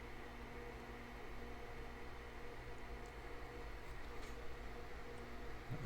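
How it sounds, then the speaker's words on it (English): Inside a small garage machine shop in Houston, an air conditioner unit close by runs with a steady, faint whooshing hum and no other clear sounds. "the background noise you hear in a lot of the videos I've been making is this air conditioner just right next to me here"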